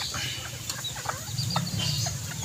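A gentle pet chicken kept inside a cage gives soft, close clucks in short, scattered bursts over a low background hum.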